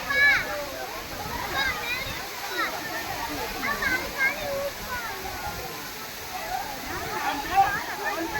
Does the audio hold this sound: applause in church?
no